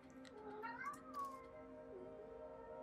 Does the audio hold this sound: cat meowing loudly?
yes